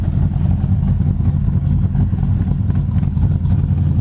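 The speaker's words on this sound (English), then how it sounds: "This car's got a nice sounding, good compression engine." A 1968 Dodge Coronet 500 engine runs steadily, a close, loud, low rumble with an even throbbing pulse throughout and no voices.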